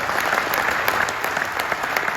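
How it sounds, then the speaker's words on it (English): Sustained audience applause at a Gophers football National Signing Day event, a dense even wash of clapping from a crowd throughout, with a faint voice underneath. "give them one more round of applause"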